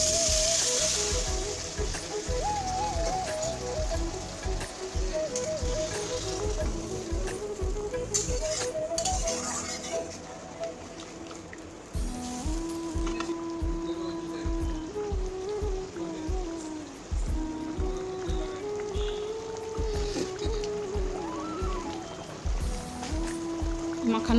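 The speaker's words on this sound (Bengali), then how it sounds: "এখন আমি দিয়ে দেব সামান্য মশলা ধোয়া জল।" Spice-washing water poured into frying potol masala, a continuous splashing, sizzling wash with irregular bubbling and clicks, close and fairly loud throughout.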